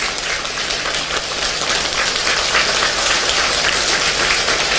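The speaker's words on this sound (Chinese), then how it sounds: "我们再一次掌声，感谢定和尚" An audience at a Buddhist ritual assembly in Hong Kong applauds, making dense, sustained clapping that spreads evenly like a wash of rain and holds steady throughout.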